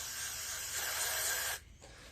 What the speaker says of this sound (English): the bowl is pretty bad off, so I'm gonna put some carb cleaner in it